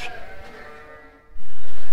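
Sheep at a livestock fair bleat over a busy background, a wavering cry near the start followed by a sudden loud burst of noise toward the end.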